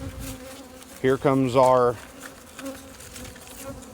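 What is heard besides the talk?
bees buzzing in beehive box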